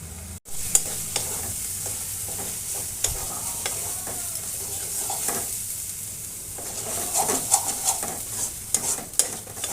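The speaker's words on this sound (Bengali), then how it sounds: "মশলার কাঁচা গন্ধটা না যাওয়া পর্যন্ত ভাজতে থাকবো বন্ধুরা" Spice paste stir-fried in hot oil for a crab curry, a steady sizzle with frequent scraping and stirring strokes of a spoon against the pan, close and continuous with no talking.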